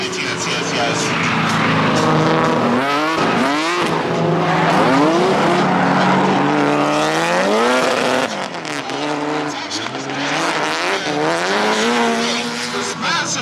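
Race cars running wheel to wheel at Cayuga, a loud, continuous roar of several engines revving up and down, with overlapping pitch sweeps as the cars pass close by.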